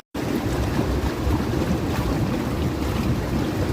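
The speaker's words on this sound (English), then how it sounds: "we're supposed to have storms today, and it's windy already" Strong wind blowing outdoors ahead of a storm in Wisconsin, a steady, loud, broadband rush buffeting the microphone throughout with no talk.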